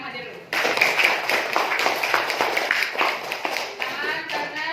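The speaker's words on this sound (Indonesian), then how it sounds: "Tepuk tangan untuk yang hadir dulu." A school class claps together for the pupils present on a Monday morning, a quick, steady patter of many hands lasting about four seconds, with some voices mixed in.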